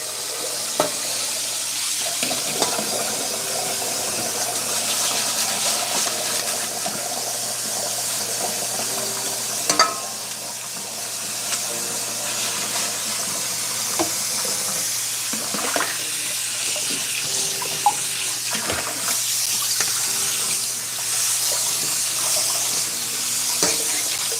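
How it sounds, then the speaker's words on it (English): Hot water pours steadily from a kitchen tap into a sink full of dishes, a continuous close splashing hiss with occasional clinks and bumps, no talking. "Get our hot water going again."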